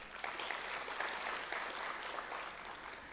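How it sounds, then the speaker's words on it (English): An audience at the launch event of an African green-transition climate innovation centre claps for a board committee chair. The applause is soft and distant but continuous, an even patter with no voices over it. "Can we give her a clap?"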